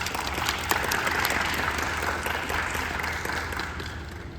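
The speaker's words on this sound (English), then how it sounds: "great applause to welcome Tapo." A lecture audience greets an invited professor with soft, continuous applause that holds steady throughout, heard at a moderate distance with no speech over it.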